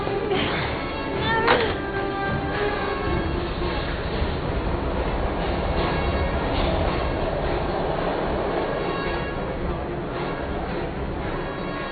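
A train in the video game Heavy Rain rumbles steadily and loudly throughout, with clattering carriage noise, a brief squeal early on and faint voices underneath.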